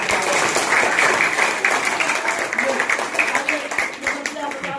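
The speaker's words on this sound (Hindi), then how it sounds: "जोरदार से ताली" A crowd claps steadily and loudly, a dense burst of applause that gradually thins out as it continues.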